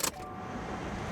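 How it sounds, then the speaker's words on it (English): A car engine starting, a brief sharp crank burst at first, then a steady low idle hum that runs quietly on its own. "Okay, let's get the car on."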